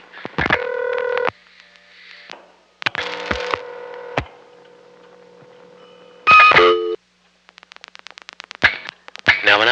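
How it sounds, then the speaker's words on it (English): Dialing on an old crossbar telephone exchange: a burst of DTMF tone pairs, pauses with line hum, further tone bursts, then a rapid train of short repeated pulses near the end, loud and clear with no talk. "now I'll continue to dial a 10-digit number"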